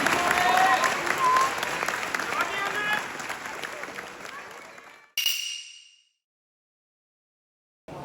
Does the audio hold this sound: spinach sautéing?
no